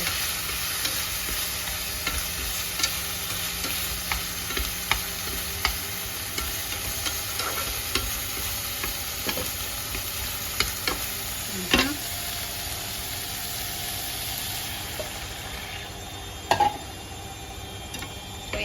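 Browned tofu and pork cooking in a pan with soy sauce and water added: a continuous sizzle with scattered light clinks and stirring taps, close and steady throughout, and no talking.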